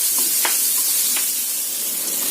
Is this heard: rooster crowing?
no